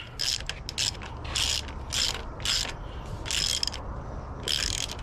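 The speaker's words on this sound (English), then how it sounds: "I'm going to tighten this down." A ratchet tightens a fitting on a B16 cylinder head during a B18B VTEC conversion, with a Teflon-taped fitting going into aluminum: six or seven close, loud bursts of rapid clicking separated by short pauses.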